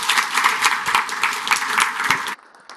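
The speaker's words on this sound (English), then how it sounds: "so another round of applause, please, for Amaury" A conference audience gives a steady round of clapping after a talk, dense and sustained, then cuts off abruptly near the end, leaving quiet room noise.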